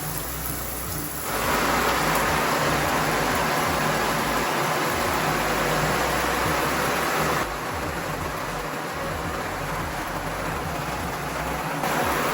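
Water from a running tap pours onto a Teflon-coated umbrella, producing a loud, dense patter like heavy rain on fabric that starts abruptly and continues steadily, easing slightly partway through.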